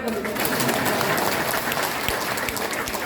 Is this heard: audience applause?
yes